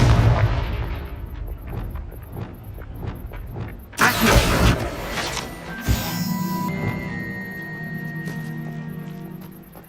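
Fiery Confringo spell blasts in Hogwarts Legacy combat burst with loud booming impacts amid thumping game action, followed by crackling debris and a lingering rumble.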